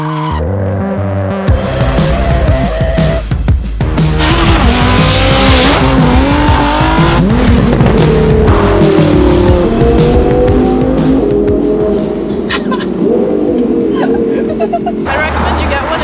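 An Audi R8 V10 doing all-wheel-drive donuts: a loud, revving engine climbs and falls while the tires squeal continuously through the turns, close and dominant, with voices in the background.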